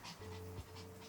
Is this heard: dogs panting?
yes